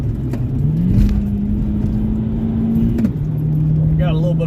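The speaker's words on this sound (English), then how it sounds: "We got a little bit of rev limiter there." An Audi S4 on a back road holds a steady high engine note that climbs, then bounces off the rev limiter before dropping to a lower, steady tone. The engine drone is loud and continuous inside the car.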